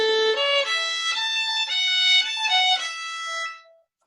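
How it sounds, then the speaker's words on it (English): The folk tune "Go Tell Aunt Rhody" played as a short melody of clear, bright sustained notes in a key signature, a steady sequence of single tones alone that fades out on the last note. "this is a tune from Go Tell Aunt Rhody."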